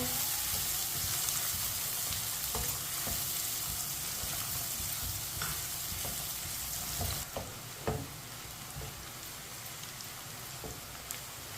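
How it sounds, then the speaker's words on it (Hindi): Steady, dense sizzling of onion and garlic frying over medium heat in a pan, with a few scattered clicks and scrapes of stirring toward the end. "मीडियम आंच पर इसे चम्मच चलाते हुए हल्का सा ब्राउन कर लेंगे दोनों चीजों को।"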